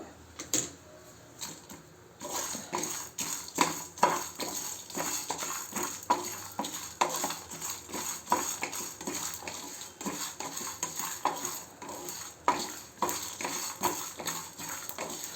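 Cumin, coriander seeds, sesame seeds and dried chillies frying in a pan, a brisk run of crackling pops and light scraping clatter at close range, steady and fairly loud throughout.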